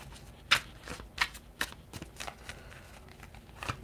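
Tarot cards being shuffled by hand during a reading, a series of quick crisp riffling flicks and soft slaps at irregular intervals, close and fairly quiet.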